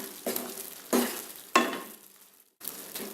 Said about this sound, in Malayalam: കൊഞ്ചൊരു ഹാഫ് കുക്കായിട്ടുണ്ട്. ഒന്ന് മിക്സ് ചെയ്ത് കൊടുക്കാം.